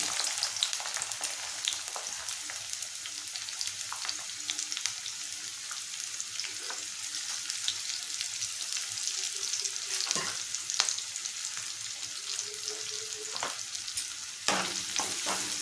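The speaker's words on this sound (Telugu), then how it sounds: "ఉల్లిపాయలు పచ్చిమిరపకాయలు వేసేసుకున్నాం" Onions and green chilies fry in about three spoons of hot oil in a kadai, a steady close sizzle with scattered crackles and occasional stirring scrapes, alone throughout.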